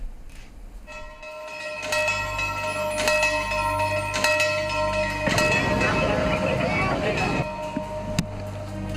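A school bell rings in several sharp, resonant strikes that hang in the air, over a steady background hum, with chatter-like noise in the middle.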